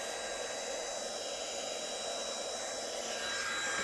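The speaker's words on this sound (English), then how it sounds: "I'll just blast those with the heat gun real quick off to one side" Steady rushing roar of a heat gun blowing hot air, continuous and close with a faint high whine.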